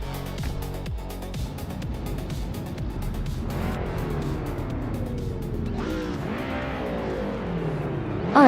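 Engines of race cars in a video game roaring off the line at the start of a race on the Aintree Vintage track, including a 2004 Ford, with a steady dense drone that climbs in pitch and swells louder near the end.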